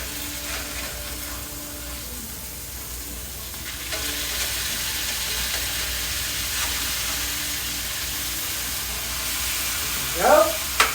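Food frying in a covered pan on a home stove, a steady broad sizzle and hiss throughout, then a brief clatter and scrape near the end as the pieces are turned over. Some faint background sound sits under it.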